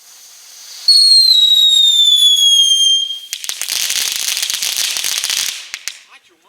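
A consumer firework from an Action showbag pack launches with a loud descending whistle lasting about two seconds. A dense, crackling burst of pops and sizzle follows for a few seconds, then fades out.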